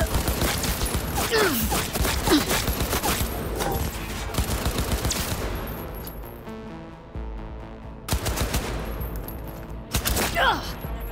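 Gunfire in Cyberpunk 2077 crackles in rapid bursts of heavy automatic shots, loud and close, with short pauses between volleys.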